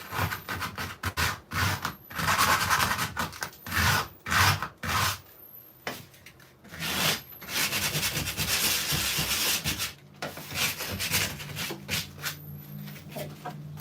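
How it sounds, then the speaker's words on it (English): Sandpaper rubbing over painted wooden furniture to distress it, in repeated close scratchy strokes with brief pauses between them and no talk. "I'm gonna go through and I'm gonna sand some spots"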